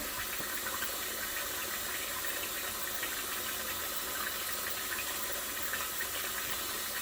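Water runs steadily from a tap during handwashing in a continuous hiss, fairly faint and unbroken, with no talking.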